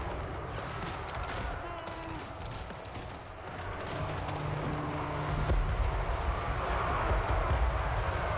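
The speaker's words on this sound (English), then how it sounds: "I like how these open up and drop the bombs." Thunderbarges drop bombs in a strategy video game battle, giving a dense, continuous rumble of blasts and gunfire-like crackle that swells louder toward the end, with no voices.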